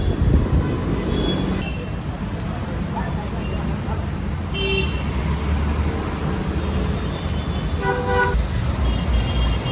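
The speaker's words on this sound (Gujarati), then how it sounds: "હવે ગાડી આવી ગઈ છે અમારી." A vehicle horn toots several times on a busy road, with traffic and engine rumble throughout and people talking over it.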